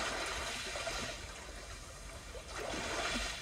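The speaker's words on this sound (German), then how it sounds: "Als nächstes Punkt Meeresrauschen" Ocean surf nature sound played through the Kia UVO infotainment system in a 2020 Kia Proceed GT: steady broadband wash of waves with swelling surges, moderately loud and continuous, with no talk.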